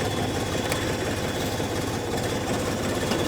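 A Xingtai 244 THL mini tractor engine runs with a steady, loud low diesel drone and mechanical rattle as it pulls away, continuous and close with no talk.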